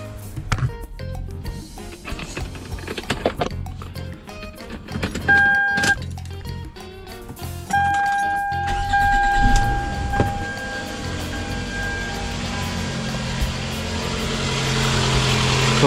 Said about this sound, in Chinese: 那我们进去试着去发动看看